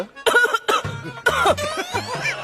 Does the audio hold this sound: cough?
yes